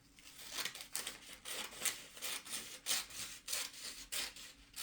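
Scissors snip through fabric along a marked line while a skirt is cut out, a quiet, close series of irregular crisp rasping cuts, about a dozen strokes, with no talking.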